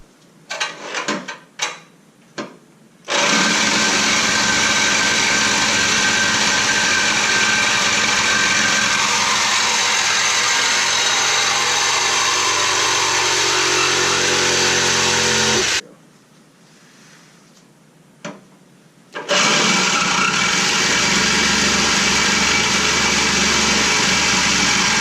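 A loud power tool whines steadily while cutting through a 2017-2019 Camaro ZL1 exhaust pipe for a long stretch, pauses briefly, then starts cutting again.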